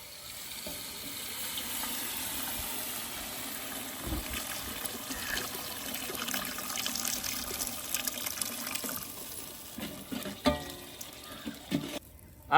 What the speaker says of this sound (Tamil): கொஞ்சமா புளி தண்ணி ஊத்திக்கிறோமா?